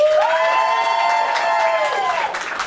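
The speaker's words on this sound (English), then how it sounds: "So now you will cheer for the person that you want to see do the whole thing by themselves." A group of children cheer and shout together in a sustained, high-pitched burst, loud and close, tapering off near the end.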